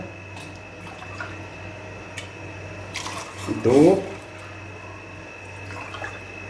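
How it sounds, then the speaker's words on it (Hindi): Water is poured into a saucepan while making kahwa, giving a brief splashing burst of about a second mid-clip over a steady background hum, with a person talking around it. "अब ये हमने सॉस पैन लिया है, इसमें हम 3 कप पानी ये वाला ऐसे डाल देंगे, 3 कप।"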